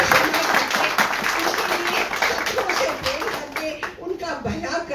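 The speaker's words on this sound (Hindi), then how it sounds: "क्या परमेश्वर के लिए ताली दे सकते हैं?" A church congregation at a Friday service claps for God, a sustained round of clapping mixed with voices and some chatter, tapering off toward the end.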